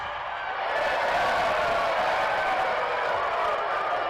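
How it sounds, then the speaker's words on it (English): A basketball arena crowd at a Wake Forest versus North Carolina ACC game cheers steadily as R.J. Davis walks out, a broad, continuous roar of voices with some clapping, swelling slightly after the first half-second. "R.J. Davis walks out to a crowd of cheers"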